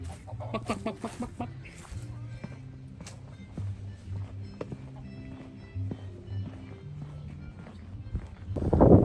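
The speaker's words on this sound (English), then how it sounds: "So you can see that the school still has the chickens" Chickens cluck and call in short bursts nearby in the shade at a school in Guam, with scattered clucks and a louder rustle or flutter at the end.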